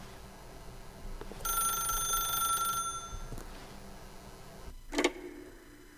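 A telephone rings inside The Stanley Parable video game: a bright, sustained electronic ring lasting over a second, then a short sharp click or pickup sound, with no talk.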